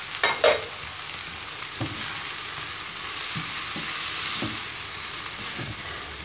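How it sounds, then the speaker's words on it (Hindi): Ground coriander and cumin masala are stirred into a hot pan for dhaba-style okra masala. Steady close sizzling frying continues throughout, with occasional soft scrapes of the spoon against the pan. "ये तमाम मसाले मैं इसमें शामिल कर दूंगा और इनको अच्छी तरह हम"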